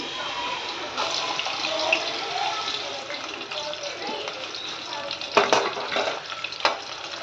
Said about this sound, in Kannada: ಹಾಗೆ ಕರಿಬೇವು ಹಾಕೋತಿದ್ದೀನಿ ರೀ ನಾನು ಈಗ ನೋಡ್ರಿ ಉಳ್ಳಾಗಡ್ಡಿ ಹಾಕೋತಿದ್ದೀನಿ